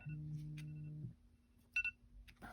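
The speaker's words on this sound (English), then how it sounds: "There goes our timer." Timer going off with a steady tone for about a second, then a quiet pause, a couple of short beeps and a final chirp, all fairly faint.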